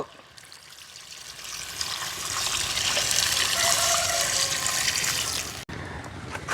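Water is poured into a pot of fish curry made with small fish, a steady close gush and splash that builds, then stops abruptly near the end.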